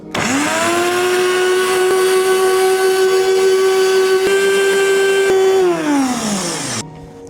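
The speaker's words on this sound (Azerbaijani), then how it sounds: "Və gözəl bir blender." An electric blender purees peeled garlic with olive oil, a loud steady motor whine that spins up, holds for about six seconds, then winds down and cuts off.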